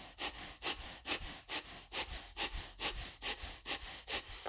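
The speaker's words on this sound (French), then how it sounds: "Inspire, expire." Slow, deep breathing during a yoga session, with about ten even breaths in a steady rhythm, each a soft airy rush heard close and alone.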